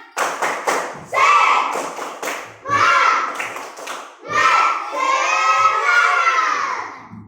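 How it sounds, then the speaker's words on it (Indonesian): A fourth-grade class does a rhythmic spirit clap, sharp bursts of children's clapping in a patterned beat alternating with the kids chanting together in unison. "Kita tepuk semangat dulu."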